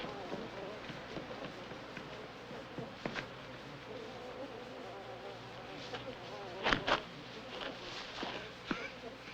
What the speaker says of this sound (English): Devil bees killed my son.